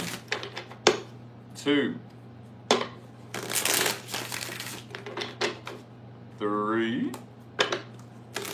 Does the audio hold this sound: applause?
no